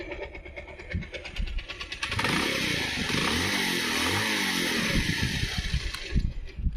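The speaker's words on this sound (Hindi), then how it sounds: "बाइक के स्टार्ट इंजन साउंड वगैरह ऐसा है।" An older Bajaj Pulsar BS4 motorcycle engine cranks and catches, then settles into a steady, fairly loud running drone with a few throttle blips toward the end.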